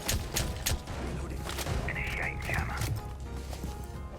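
Rapid gunfire in Rainbow Six Siege from a hard-recoiling gun, sharp bursts of shots near and loud at the start, then scattered thuds and game noise with a voice talking over it.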